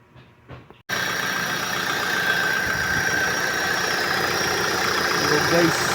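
A car engine suffering coolant overflow and overheating idles with a steady, loud mechanical drone that starts abruptly after a short stretch of speech and runs unbroken.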